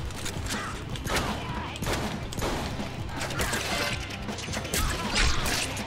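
Shotgun blasts in the Deadpool video game, a dense run of loud booming shots and crashing impacts layered over constant game noise, close and continuous.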